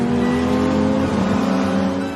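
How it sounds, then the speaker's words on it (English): A car accelerates hard, its engine roaring loudly and steadily with a rising harmonic drone over about two seconds, close and without any speech. "I floored the accelerator. My car shot forward like an arrow, overtaking dozen vehicles in a row."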